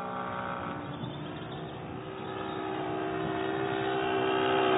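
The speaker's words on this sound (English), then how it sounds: "Now, listen carefully to the sound of the engine." A fast vehicle's engine drones steadily at a distance, a continuous hum with sustained tones that slowly grows louder as it approaches, heard alone without talk.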